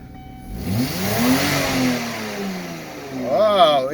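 A car engine running without its air filter is started and revved, rising and falling in pitch through the clip, close and fairly loud, with a brief voice near the end.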